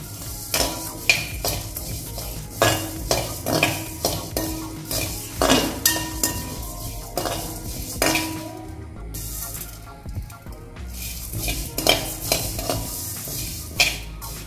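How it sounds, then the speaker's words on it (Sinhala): Whole spices dry-roast in a pan for homemade Sri Lankan curry powder, with a utensil stirring and scraping in an irregular rhythm and frequent light clinks against the pan, close and steady throughout. "මේ වගේ සාච්චියකට දාලා යන්තම් බැදගන්නේ ගොඩාක් බදින්නේ නැහැ"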